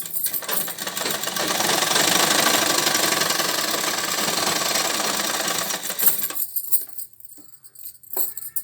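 A sewing machine stitches the sleeve of a ready-made kurti in a steady, loud, close whirring run for about six seconds. It then stops, leaving a few light clicks and handling sounds.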